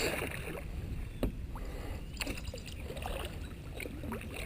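A canoe is paddled on the Upper Huron River near Proud Lake, with close, steady water swishes and drips from the strokes over a constant outdoor background hiss.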